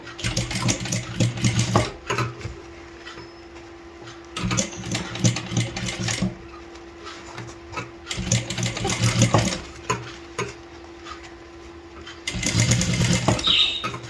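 A sewing machine runs in repeated bursts, stitching a folded sleeve edge; the motor whirs loud and close, pausing briefly between runs.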